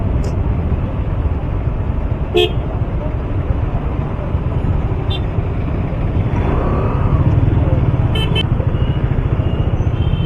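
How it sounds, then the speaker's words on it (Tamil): Heavy road traffic in Madurai heard from a moving delivery motorbike: a loud, constant engine and road roar with a few short horn toots sounding at intervals. "எந்த சிக்னல் போனாலும் டிராஃபிக்காக இருக்குது"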